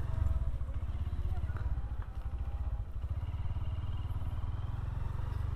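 Scooter engines idle and putter with a steady low throb at an outdoor scooter festival in Simpang Lima, Kediri, a continuous rumble close by while a person talks over it.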